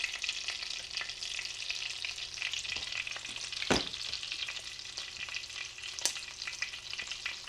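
Pork rind breaded shrimp deep frying in oil at 390 degrees, a steady dense sizzle and crackle with a few sharper pops, close and continuous without speech.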